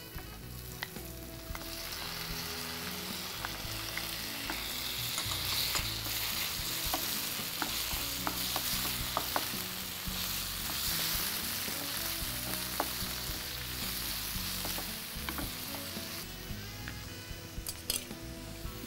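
Chopped tomatoes go into softened, sautéed onions in a pan, sizzling continuously while a spoon stirs and clinks against the metal, close and steady throughout.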